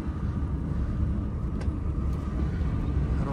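A car driving along a rough road toward Shani Shingnapur, a steady low engine rumble and road noise filling the cabin throughout, loud and continuous with no talk.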